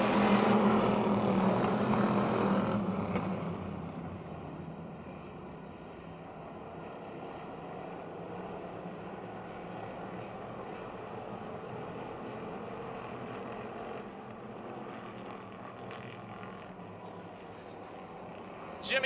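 Race cars roar together in a continuous engine drone at Motordrome Speedway as a race goes green, loudest in the first few seconds then holding a steady, fairly distant rumble with some wind noise.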